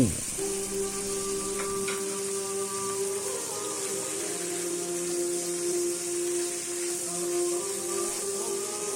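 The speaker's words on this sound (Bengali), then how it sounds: "দুই মিনিট ভাজার পর টমেটো ঢেলে নাড়তে থাকি।" Tomatoes go into vegetables and flat beans frying in a pan for a vegetarian dish, giving a steady, close hiss of sizzling oil with faint stirring scrapes throughout.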